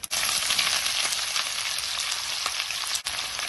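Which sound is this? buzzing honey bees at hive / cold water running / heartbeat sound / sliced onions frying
sliced onions frying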